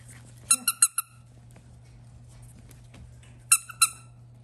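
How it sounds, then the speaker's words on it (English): Schnauzer puppies give short, high-pitched squeaks in two quick clusters of three or four, close by, with a steady low hum and quiet pauses between them. "When the other dogs hear the squeaking, they come running"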